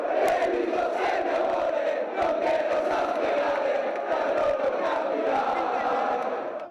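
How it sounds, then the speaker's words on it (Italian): Thousands of basketball fans gathered outdoors before a big screen at Porta San Tommaso in Treviso roar and shout in celebration of promotion to Serie A, a dense sustained crowd cheer filling the scene. "davanti a Porta San Tommaso esplode l'urlo di gioia dei tifosi"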